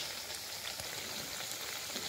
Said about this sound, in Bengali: এগুলো আমরা এবার উল্টে পাল্টে ভালো করে ভেজে নেব।